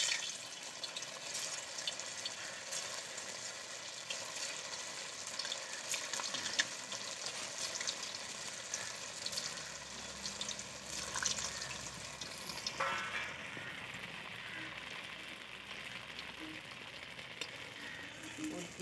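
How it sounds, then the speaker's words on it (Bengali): Flour dough pieces fry in hot white oil, giving a steady, dense sizzle and bubbling that carries on throughout and eases slightly toward the end. "আমি সাদা তেলে ভাজবো।"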